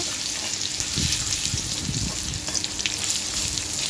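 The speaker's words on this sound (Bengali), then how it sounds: "রসুনটা আমি ভালো করে হালকাভাবে ভেজে নেব" Crushed garlic sizzles lightly in hot oil in a pan, a steady close frying hiss with a few soft stirring scrapes, no voices.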